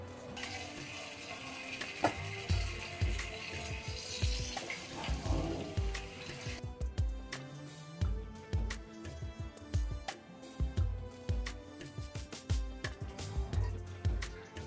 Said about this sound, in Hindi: अब हम इस नूडल्स को स्ट्रेन करके इससे बिल्कुल अच्छे से 2 से 3 बारी ठंडे पानी से हम वॉश कर लेंगे